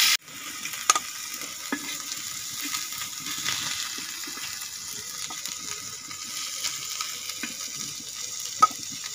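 Fish fries in a pan over a village cooking fire, a steady soft sizzle with occasional clicks and stirring scrapes throughout.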